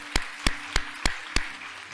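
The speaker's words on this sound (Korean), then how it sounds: "우리 하나님 앞에 다시 한번 감사의 박수 올려드리도록 하겠습니다." Congregation in a church giving applause, heard as five sharp, evenly spaced claps in a slow rhythm, close and fairly loud over a quiet room.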